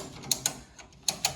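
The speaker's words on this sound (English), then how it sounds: "I have a ratchet strap, and you'll be able to see as I crank it" Ratchet strap being cranked to pull an aftermarket front fender over on an OBS Ford truck, two pairs of sharp metallic ratchet clicks with a quiet pause between them, close and distinct, no voices.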